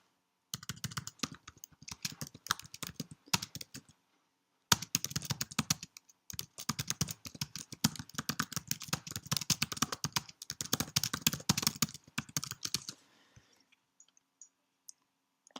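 Rapid clicking keystrokes on a computer keyboard come in dense bursts with short pauses, then stop near the end, leaving quiet.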